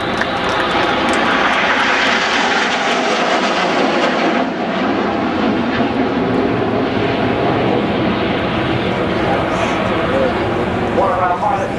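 Avro Lancaster bomber flying past at the 2013 Waddington air show, its piston engines giving a loud, steady drone throughout, with a voice faintly over it.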